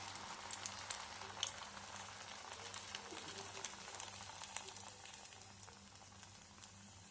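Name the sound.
chicken koftas frying in hot oil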